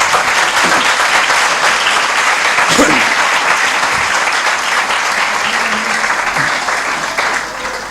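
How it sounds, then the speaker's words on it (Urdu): A church congregation applauds loudly and steadily, dense clapping filling the space throughout, with brief voices surfacing faintly beneath it. "خدا کے جلال کے لیے زوردار تالیاں بجائیں"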